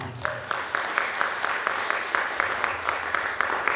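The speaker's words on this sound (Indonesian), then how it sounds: "Tepuk tangan untuk Tuhan" A congregation at a Sunday worship service claps in unison, with sharp rhythmic beats roughly every half second standing out over a backdrop of scattered applause.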